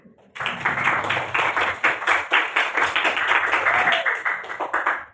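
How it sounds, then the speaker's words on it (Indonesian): Steady, energetic clapping from a group, starting abruptly and continuing rhythmically for several seconds, fairly loud and close. "Jadi, tepuk tangan."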